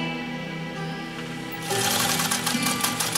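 A White model 764 sewing machine stitches through 8 layers of U.S. Army grade canvas, running at a steady moderate pace and then picking up into a louder, denser mechanical whir with rapid needle clatter, close by and uninterrupted.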